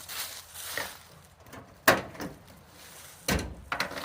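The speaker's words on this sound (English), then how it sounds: "So your tailgate drops." A sharp metallic clunk followed by a second heavy thud as the tailgate of a 2010 Toyota Tundra pickup drops open, nearby, against quiet background noise.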